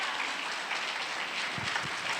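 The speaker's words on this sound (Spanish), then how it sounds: "Le damos un aplauso a Jesús en esta mañana." Congregation at a Spanish-language Christian church service applauds for Jesus, a soft, distant wash of many hands clapping that holds steady and fairly quiet with no voice on top.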